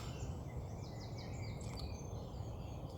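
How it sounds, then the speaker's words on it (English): Birds sing around a carp fishing lake, thin chirps and short trilling phrases set against a quiet, steady outdoor hum, with no voices. "As you can hear the birds singing,"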